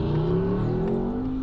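A Ford Mustang engine revs up with a rising pitch, loud and close, a smooth continuous build with no voices.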